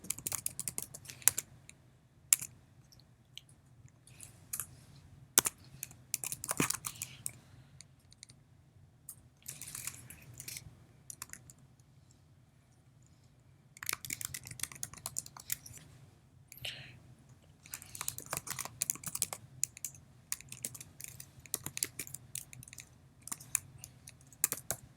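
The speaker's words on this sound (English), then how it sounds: "typing here." Computer keyboard typing while filling in a company registration form for Odoo 14 software, coming in bursts of quick close clicks separated by short pauses, with no talk.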